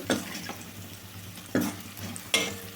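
Onion and curry ingredients fry with salt in a pan for a Tamil Nadu lunchbox curry, with a soft continuous sizzle and occasional close spoon scrapes while being stirred.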